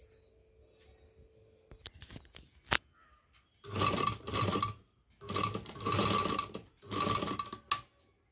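A sewing machine fitted with a single presser foot stitches lace onto fabric, running in several close, loud bursts of rapid mechanical whirring separated by brief pauses, after a few quieter clicks.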